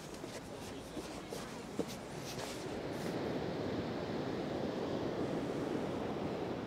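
Waves breaking on a beach on the English coast near Tyne and Wear in early March: a continuous broad wash of surf with wind buffeting the microphone, fairly faint, with no speech.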